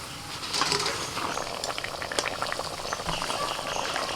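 Spice mixture of mustard paste stirred into water with tomato, turmeric and salt boils steadily in a pan as fried puti fish are added, giving a continuous close bubbling and popping that lasts throughout.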